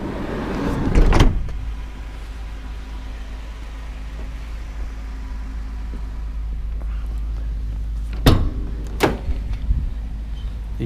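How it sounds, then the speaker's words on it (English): Rear cargo doors of a 2014 Ram Promaster 2500 high-top van being swung open past ninety degrees, with a loud clunk of the latch early on and two sharp metallic knocks near the end over a steady low rumble. "These doors open past the 90."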